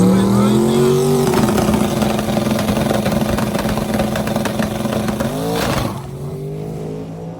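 A drag racing car engine revs hard at a Sick Week event, a loud, rising mechanical howl that changes pitch through gears and eases near the end, with a commentator talking over it.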